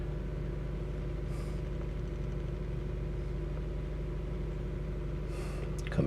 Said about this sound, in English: It is idling nicely as compared to the last time